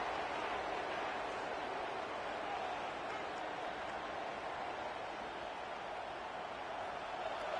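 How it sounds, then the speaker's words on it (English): A dense, steady roar of a large stadium crowd cheering at an Ohio State at Washington football game, loud and continuous throughout with no breaks. "this crowd is fired up. Listen to this noise here."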